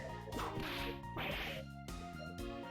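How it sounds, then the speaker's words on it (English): A hard whack strikes glass in Ace Attorney Investigations, heard as two loud smashing impacts with a bright crashing burst over a musical background, followed by a softer hit near the end. "you simply had to hit the glass, like this!"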